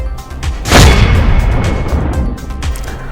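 Firecrackers burst in a loud, close, booming blast with a long rumbling tail and scattered smaller pops, set off by traders at a market celebrating an election victory.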